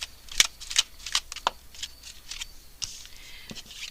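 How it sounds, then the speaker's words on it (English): Tarot cards are shuffled by hand in a series of quick riffling bursts, several crisp papery flutters spaced irregularly and heard up close with no talking. "shuffle one more time."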